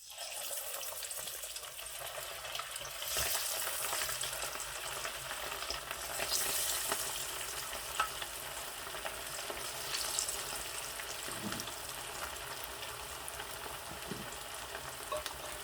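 Fish pakoda pieces frying in hot oil produce a continuous bubbling sizzle, moderately quiet and steady, with occasional soft clinks as more pieces go in.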